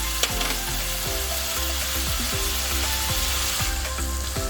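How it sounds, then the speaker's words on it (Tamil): Tomatoes with salt sautéing in a pan for paneer butter masala, a close, steady sizzle with a low hum beneath and regular soft scraping strokes of a spatula. "இப்போ தக்காளி வந்து இன்னும் கொஞ்சம் வதங்கணும்"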